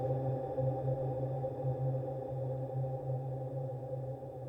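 A sustained Ableton Wavetable pad synth tone rings on after the note is released, a steady, full drone holding at even loudness with no talk over it.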